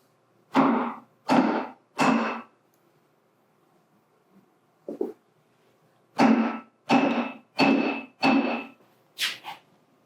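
Hammer blows on a block of wood to seat a brake or shock part evenly, a series of loud close thuds in two groups separated by a pause, with a lighter knock between.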